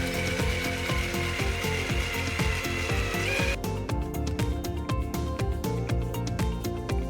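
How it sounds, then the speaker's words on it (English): A cordless drill driving screws into old pallet wood panels while building a compost bin, a steady rapid ratcheting whir in close, loud bursts, with no talk. "Get your screws and with the drill, secure the panels together."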